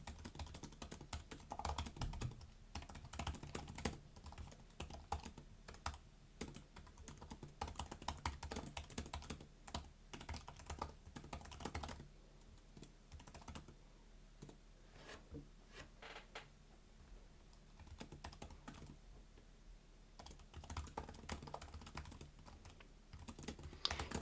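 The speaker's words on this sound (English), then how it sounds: "I'm going to type up an essay, right?" Fingers type steadily on the keyboard of a 2024 Lenovo Yoga Book 9i laptop, a quiet, close run of soft clicking keystrokes in irregular bursts with brief pauses, with no voices.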